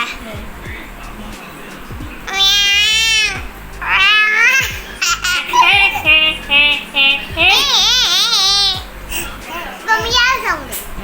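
A child imitates a cat, giving several drawn-out, wavering meows in a loud, close voice, with other voices briefly chattering between them.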